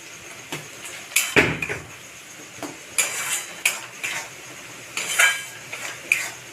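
A metal spoon clanks and scrapes against a pan while ridge gourd is stirred with salt and turmeric, irregular bursts of clinks and scrapes over a faint sizzle, no voices.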